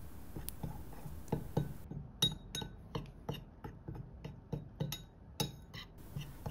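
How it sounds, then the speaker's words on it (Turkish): A spoon stirring powdered sugar and cinnamon in a bowl, with repeated light clinks and taps against the bowl in an irregular rhythm, close and quiet. "1 tatlı kaşığı dolusu tarçınımızı ekleyelim ve kaşık yardımıyla karıştıralım"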